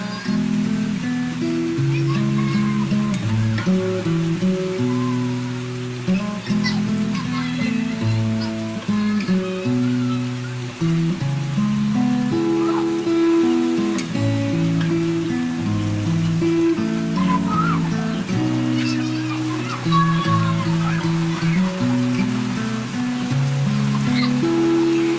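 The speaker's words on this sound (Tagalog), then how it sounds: "Yan po lakas ng ulan." Heavy rain pouring steadily onto a surface, a constant dense patter and hiss that stays level throughout, with low tonal sounds and faint voices underneath.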